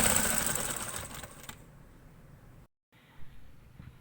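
A sewing machine stitches piping onto a garment neckline, a busy, close mechanical whir for the first second and a half that then drops to a quieter hum.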